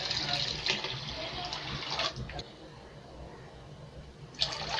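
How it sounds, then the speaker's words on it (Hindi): Water from soaking lentils is poured into a karahi, a steady rushing splash filling the whole stretch with slight surges, while someone talks over it. "5 गिलास में पानी ऐड करूंगी।"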